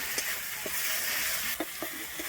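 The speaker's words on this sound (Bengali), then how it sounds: "আমি জিরে আর শুকনো লঙ্কাটা দিয়ে কিন্তু একটু ভালোভাবে কষিয়ে নিচ্ছি" Cumin and dried chilli being fried and stirred in a pan for a Bengali tangra fish curry: a steady, moderately loud hiss of sizzling oil with a few soft scraping stirs, and no voices.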